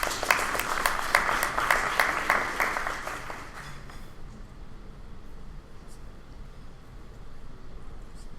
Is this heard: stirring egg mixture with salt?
no